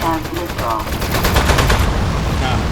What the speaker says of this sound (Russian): Мы запустили ракету, я понял.